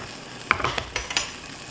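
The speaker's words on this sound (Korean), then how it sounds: "이제 소고기 볶을 겁니다." Beef stir-fries in a little butter in a hot pan; a soft sizzle sits under several quick, sharp scrapes and clicks from a utensil, close and brief.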